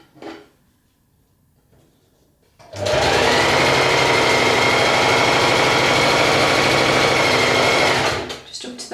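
A domestic sewing machine runs in one loud, steady burst lasting several seconds while it stitches the panels of a gathered waist-tie summer top. A quiet pause comes before the motor starts, and it stops abruptly near the end.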